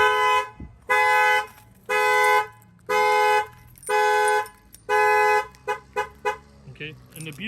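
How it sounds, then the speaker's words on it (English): A 2013 Corvette factory alarm, triggered by a shock sensor, blares in loud repeating horn-like tones, six long bursts followed by quicker chirping pulses, with a low engine-like rumble underneath. "that will fire off the alarm"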